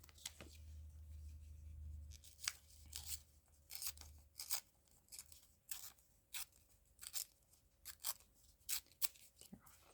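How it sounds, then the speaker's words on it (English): Lavender gift wrap paper is torn along its edge during a paper craft, with a long run of crisp, close rips and crinkles in irregular bursts and no talking. "Just gonna tear off that edge."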